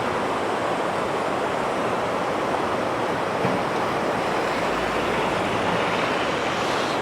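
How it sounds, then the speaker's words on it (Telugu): Glacier meltwater stream rushing near Zermatt, Switzerland, a steady, loud broadband roar of fast-flowing water that stays constant throughout without pauses or voices. "గ్లేషియర్ వాటర్ చూడండి"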